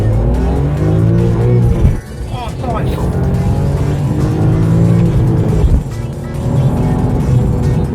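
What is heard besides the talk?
BMW M3 E46 car accelerating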